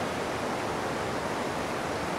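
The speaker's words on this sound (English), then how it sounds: "Okay, this is Northam Weir." Water pours over Northam Weir on the Avon River in a steady, dense broadband rush, constant and fairly close, with no voices or other sounds on top.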